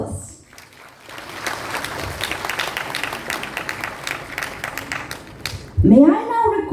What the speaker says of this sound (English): let us warmly welcome our esteemed dignitaries with a round of applause